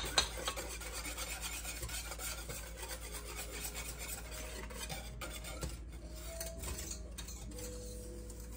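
Whisk scraping and rasping through chocolate pie filling in a pot on an electric stove, a soft, steady rubbing rhythm over a low hum, no voices.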